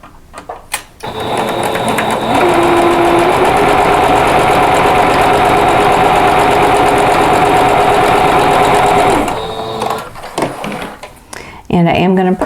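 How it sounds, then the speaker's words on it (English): Sewing machine stitching quilt rectangles for a tulip block, a loud steady mechanical whir running for several seconds after a few short starts, then stopping amid handling clatter and a brief restart. "we're just going to sew this piece in between these two"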